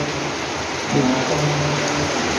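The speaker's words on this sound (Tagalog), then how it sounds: "nakabutan kami ng ulan" Steady, hissing rain from a typhoon pours down in Tuba, Benguet, near Baguio, a dense wash of falling water with a faint low hum emerging partway through.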